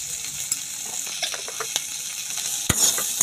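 Sweet corn stirred in a frying pan with salt and chili flakes, a steady sizzle under scattered scraping spoon strokes and one sharp clack near the end, with no voices.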